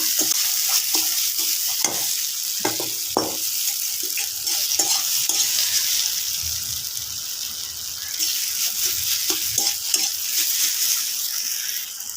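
A boiled potato is stirred into soybean dhokar dalna frying in a pan, giving a constant loud sizzle broken by repeated scraping and clacking strokes of the spoon.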